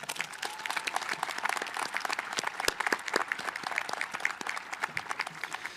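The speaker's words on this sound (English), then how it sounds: "Let's give everyone another round of applause." Applause from the crowd at a high school commencement ceremony, a sustained, even round of many hands clapping at moderate distance, with no talking over it.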